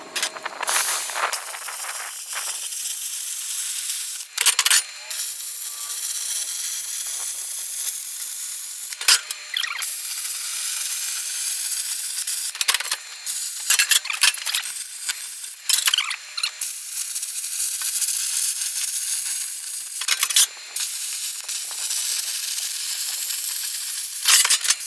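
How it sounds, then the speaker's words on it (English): A 50-amp VEVOR non-touch pilot arc plasma cutter cuts metal into strips, giving a loud steady hiss of air and arc broken by short gaps as the torch stops and restarts, with no talking. "now we're going to cut this into strips"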